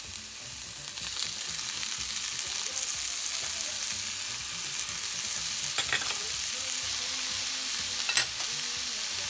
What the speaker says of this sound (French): Et maintenant, je vais rajouter mes tomates concassées.